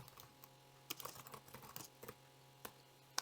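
Fingers tap out text on a computer keyboard in a sparse, irregular run of light clicks over a low steady mains hum, close and quiet.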